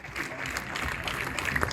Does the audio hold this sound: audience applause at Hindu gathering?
yes